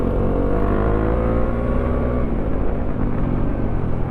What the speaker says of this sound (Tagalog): Ganda ang tunog ng tambutso ni Kuya.